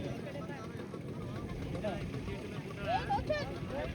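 An approaching boat on the Kabini backwaters gives a low, steady engine rumble under chatter from a waiting crowd. The sound swells a little near the end.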